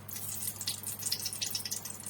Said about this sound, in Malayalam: നെയ്യ് ഒഴിക്കുക.